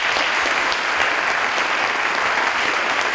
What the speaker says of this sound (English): a round of applause for Sandy, please